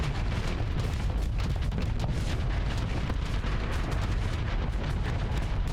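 Cyclone missile launchers pounding a ship in the Starsector space combat game, a dense loud continuous barrage of rumbling booms and blasts with no pauses and no talk.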